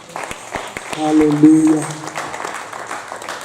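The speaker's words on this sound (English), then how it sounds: "Let's clap for Jesus." A church congregation claps, with a few sharp, close claps early on, then a voice calls out loudly over the top as the clapping continues faintly beneath.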